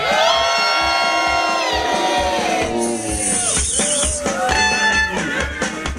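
A live concert crowd at the Rockstock and Barrel 2015 festival cheers, whoops and yells loudly for a devil character. The high shouts are sustained and swell, with a few voices standing out.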